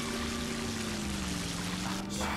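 Water pouring or streaming steadily in the SpongeBob SquarePants Movie video game, a continuous rushing wash with a low droning tone beneath it, no voices.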